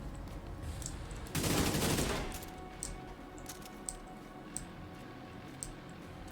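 Gunfire in The Division 2, a dense loud burst of rapid automatic shots lasting under a second, followed by scattered faint single cracks and ticks spaced out over a quieter background.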